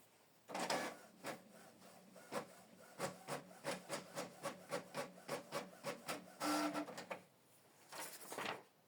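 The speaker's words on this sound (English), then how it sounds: "So the document is printing." A Canon PIXMA TS6550i printer running a test page gives faint, quiet mechanical whirs and rasping bursts, repeating in a regular rhythm with short pauses between.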